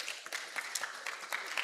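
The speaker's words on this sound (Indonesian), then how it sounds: "tepuk tangan dulu" Audience applause at a new student orientation event in Makassar, a dense steady patter of many hands clapping at moderate distance, fairly quiet throughout.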